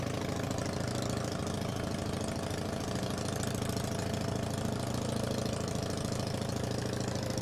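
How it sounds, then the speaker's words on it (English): A race vehicle with a Hooper 120-inch engine running at Speedweek 2024 on the salt flats, a loud steady engine drone with a rapid knocking pulse, sustained without a break and no speech. "A Hooper 120-inch engine."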